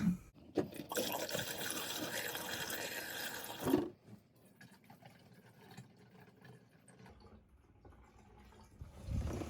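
Water running from a bathroom sink faucet in a 2021 Keystone Cougar fifth-wheel RV, a loud steady rushing gush for several seconds, then cut to a quieter low background until a brief burst of flow returns at the end.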